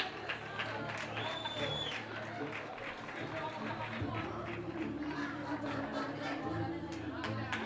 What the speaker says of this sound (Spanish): Fuerte aplauso para Álvaro Ayala